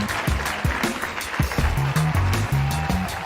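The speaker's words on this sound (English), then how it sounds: "Let me give a round of applause for you all." Group applause indoors from a gathering of people, steady clapping from many hands with some louder individual claps near by, mixed with a murmur of voices, continuous for a few seconds.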